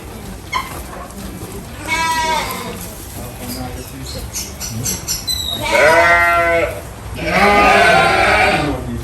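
Sheep bleat loudly and close at a farm sheep facility at C.A.S.E in Portland, Jamaica, several long wavering calls in succession, with voices talking in between.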